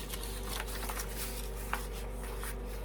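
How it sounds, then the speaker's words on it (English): A small space heater hums steadily and faintly on a cold day, a constant low drone in the background with light scattered handling noises over it. "if you hear something humming in the background, it's my heater, my little heater."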